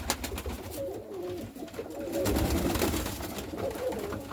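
Pigeons, a yellow dove and a red-speckled pigeon, give soft, low, repeated cooing close by over a rough, noisy background.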